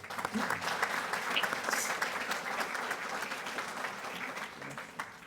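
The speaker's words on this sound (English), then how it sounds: "So another round of applause" A room applauds a high school student honored as Student of the Year at a Rotary Club awards event, with sustained, even clapping that fades slightly toward the end.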